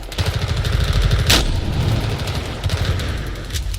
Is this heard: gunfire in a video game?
yes